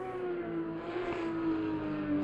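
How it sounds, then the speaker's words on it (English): Porsche race car engine in the ACC sim racing game during a Supercup round at the Nürburgring, a steady sustained drone holding one pitch, loud and continuous with a faint hiss above. "Let's have a listen to his engine."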